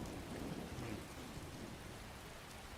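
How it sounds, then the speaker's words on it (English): Thunder rumbles low beneath steady loud rain in a video game storm, a continuous dense wash with no voices. "nice loud thunder."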